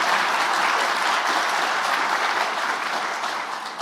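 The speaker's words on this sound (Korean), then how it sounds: "영빈관에서 진행했던 어떤 행사보다 박수 소리가 큰 것 같습니다" Loud, sustained applause from a large audience at an event in the Yeongbingwan guest house, steady dense clapping that fades slightly toward the end.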